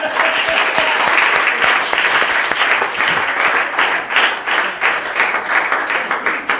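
Crowd applause at a comedy club, strong continuous clapping with some pulsing swells, a voice faintly present underneath, lasting the whole stretch.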